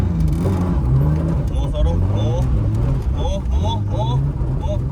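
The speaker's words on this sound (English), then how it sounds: "too scared to rev the car" A BMW E36 engine revs in short rising bursts during a practice donut, loud and close, with the engine note climbing and falling while people talk over it.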